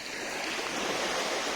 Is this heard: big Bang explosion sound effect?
no